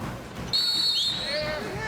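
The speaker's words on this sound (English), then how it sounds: "And a whistle down low." A referee's whistle sounds at a 1999 men's college basketball game, NIU against Wisconsin: a sharp, high, sustained blast over steady crowd murmur and faint arena noise.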